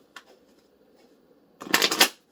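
After a quiet stretch with a faint tap, a deck of knowledge cards is riffled in one quick, crisp burst, close and loud.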